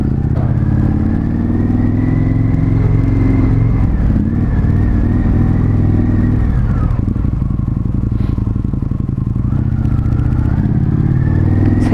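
An Indian FTR 1200 S motorcycle rides along, its loud engine note rumbling and rising and falling through gear changes over steady road and wind roar.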